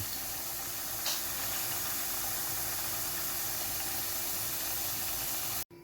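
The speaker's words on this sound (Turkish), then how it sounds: "Şu an patateslerimiz kızarıyor efendim." Potatoes frying in hot oil in a home kitchen, a steady, even sizzling hiss that holds at a constant level throughout with no voices over it.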